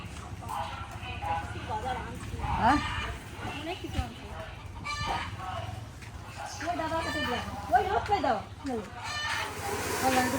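Domestic chickens clucking in a farmyard, several short irregular calls close by, mixed with voices talking and steady background noise.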